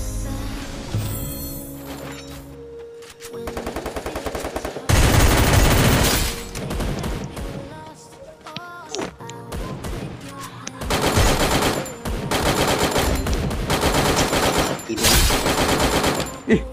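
Close-range gunfire in a ranked online shooter game, loud bursts of rapid automatic fire alternating with single shots and brief lulls, with no talk over it.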